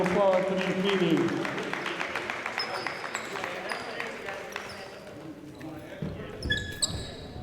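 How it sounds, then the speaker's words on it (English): An indoor audience claps in a dense burst of applause at a sports event, loudest at the start and gradually thinning into scattered claps, with echoing bounces and squeaks audible in a large hall. "For those in attendance, let's give a round of applause for these meetings."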